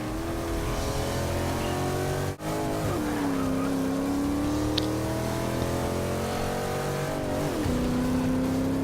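A race car engine in Forza Motorsport 6 drones at high revs through a lap, the pitch shifting with each gear change, with a brief dip and tire noise mixed into the steady roar.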